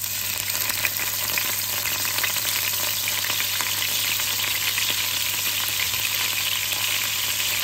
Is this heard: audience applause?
no